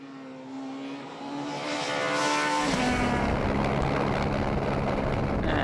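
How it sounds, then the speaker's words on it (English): Skoda Fabia rally car on a special stage, engine note rising from a distant drone to a loud, close roar as it passes, then a dense, rough full-throttle blare sustained to the end. "here's Freddy Leutsch in his Skoda Fabia, the rally leader"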